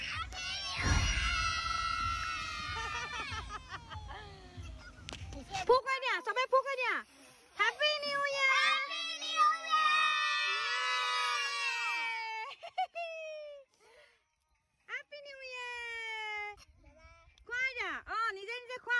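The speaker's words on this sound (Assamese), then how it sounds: "এইবাৰ আহিলে আমাৰ কেক কটা সবৰে চিঞৰটো শুনকচোন" Children shout and cheer at a New Year picnic cake cutting, bursts of high, excited voices overlapping in waves, with short pauses between outbursts.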